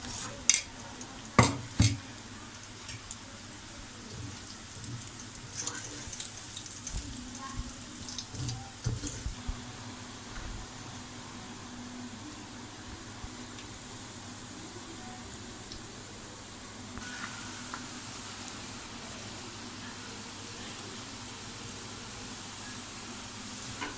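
Pakoras for kadhi pakora fry in oil that has been heating for about twenty minutes, giving a soft, steady sizzling hiss with a few sharp clatters early on and no speech.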